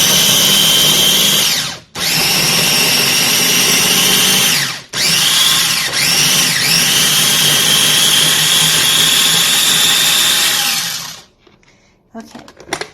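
A loud food processor chopping onion and herbs, whirring in three long bursts with brief pauses between, the motor pitch wavering as it chops, then stopping with a few handling clicks.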